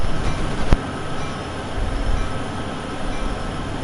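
A diesel locomotive in the video game Train Sim World 2, an SD70ACe on Sherman Hill, drones steadily with a low rumble and a sharp click near the start, no talking.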